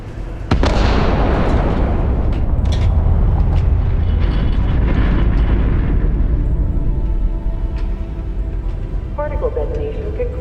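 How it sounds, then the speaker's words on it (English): Particle detonation blast in Starfield, a single massive explosion that erupts suddenly and rumbles on for several seconds with crackling debris, slowly decaying under a synthetic announcer voice and brief talk. "Particle detonation concluded."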